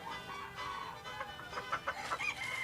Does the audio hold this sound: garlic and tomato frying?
no